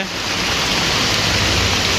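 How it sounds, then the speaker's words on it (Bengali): Heavy rain pours steadily in Chattogram district, a loud, dense, unbroken hiss close by with no voices. "তো দেখতেছেন প্রচণ্ড পরিমাণ বৃষ্টি হচ্ছে।"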